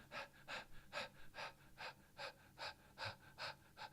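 A voice imitates a dog panting after a run: about ten quick, rhythmic breathy huffs, close and soft, evenly spaced with no talking.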